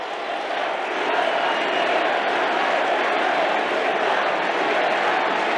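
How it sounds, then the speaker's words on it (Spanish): Large crowd at Milei's speech in Spain applauding and chanting, a dense continuous roar of massed voices and claps that swells after the first second and holds steady. "Aplausos y coros a escena abierta en el medio del discurso"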